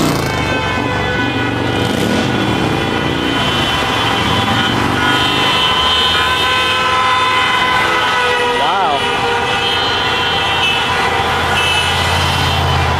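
Many car horns honk continuously from passing traffic near a roadside political rally, loud and overlapping, with engine noise and crowd voices mixed in.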